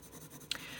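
A light violet Polychromos coloured pencil layers across paper, a faint soft scratching with one brief sharper stroke, quiet and close.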